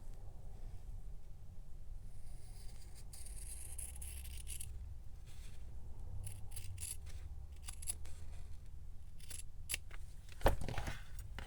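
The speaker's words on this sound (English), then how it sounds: "Now let me cut this side off." Scissors snip through fabric tape in a DIY craft session, with a long rasping cut followed by a run of quick, close snips and a louder final clip, all without talk.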